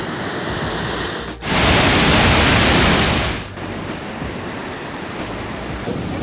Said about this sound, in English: The waves are massive.